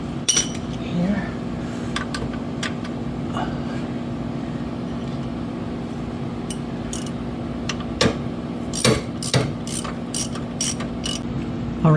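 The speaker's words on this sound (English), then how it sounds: "I'll tighten up these bolts" Ratchet clicking as bolts are tightened on an AC compressor of a 2001 Chevy Suburban, with scattered quick bursts of clicks and clinks over a steady background hum, fairly close.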